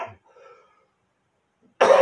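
A single harsh cough from someone with breathing problems bursts out abruptly near the end, loud and close, after a stretch of near silence with faint murmuring at the start.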